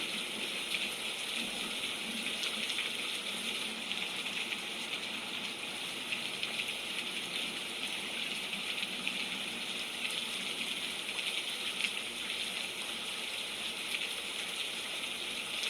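Steady rain on a very rainy day, a dense continuous hiss of falling water and dripping that stays even and fairly loud throughout with no pauses.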